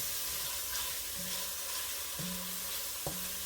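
Garlic frying in a pan for oxtails gives a steady soft sizzle with light stirring and a few brief scrapes, heard alone and close.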